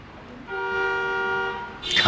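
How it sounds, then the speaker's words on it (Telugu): A car horn sounds once in a single sustained toot of about a second, loud and steady, ending as a brief burst of noise rises. "car horn మోగిందంటే"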